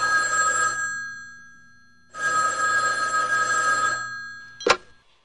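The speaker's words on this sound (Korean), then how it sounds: "아이고, 또 전화 왔습니다." A telephone bell rings in two long loud bursts with a pause between, followed by a sharp click as the receiver is picked up; no talking.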